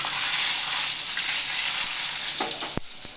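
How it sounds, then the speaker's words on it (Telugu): Tempering seeds of mustard, cumin, urad dal and chana dal fry in hot oil with a dense, loud hiss. A few crisp pops and scrapes come near the end. "మెంతులు వేగాక పోపు గింజలు వేసుకోవాలి. ఆవాలు, జీలకర్ర, మినపప్పు, శనగపప్పు"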